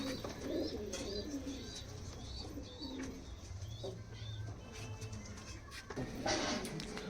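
Giribaz pigeons cooing in a loft, soft repeated low coos and occasional chirps over a steady faint background hum, with distant voices at times.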